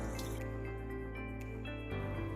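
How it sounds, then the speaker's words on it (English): Rice being washed in water by hand for Jamaican curry shrimp, making continuous close drips, squishes and sloshes of liquid with a brief shift in tone near the end. "So right here now wash the rice just for a little minute."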